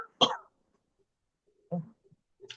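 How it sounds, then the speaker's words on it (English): A person with a bug going around coughs in three separate bursts, a sharp loud one followed by two shorter, quieter coughs after a long silent pause. "I'm gonna have to cough again."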